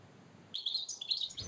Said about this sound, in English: we asked him if he could show us the birds that were in his garden